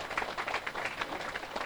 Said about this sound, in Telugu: ఒకసారి గట్టిగా చప్పట్లు కొడదాం మన ధ్యాన స్థితికి,